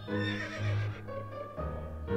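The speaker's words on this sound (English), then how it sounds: "Oh, horse." A horse in the video game To The Moon gives a clear, close whinny with a wavering, descending neigh lasting about two seconds, heard alone without talk.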